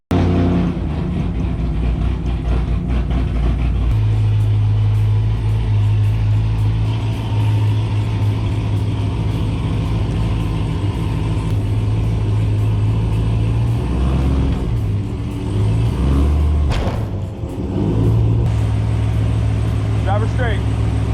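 A car engine rumbles steadily as the car drives onto a trailer for loading before LS Fest, loud and close with low revving changes, while people talk over it.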